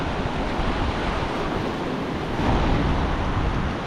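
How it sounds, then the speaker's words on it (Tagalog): Large ocean waves at sea during a fishing trip churn and wash in a steady, loud, broadband roar mixed with wind buffeting the microphone, with no talk. "Lalaki ng alon."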